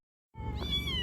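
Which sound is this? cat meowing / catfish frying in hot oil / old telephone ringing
cat meowing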